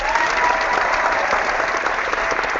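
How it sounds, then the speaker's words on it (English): Sustained applause from a crowd, dense and even clapping that holds at a steady loudness for the whole stretch, with no voices over it. "I'll even clap for you, Nick."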